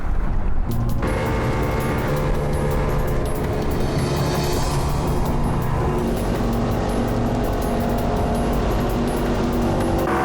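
A boat's motor drones loudly and steadily, running at speed upriver during a fishing trip, with a constant engine hum and rushing water and wind noise the whole time.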